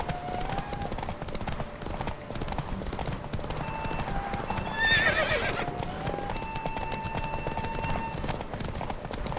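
A horse races at full gallop in The Witcher 3 video game, hooves beating quickly and evenly beneath game music, with a brief louder neigh and rush midway, close and sustained.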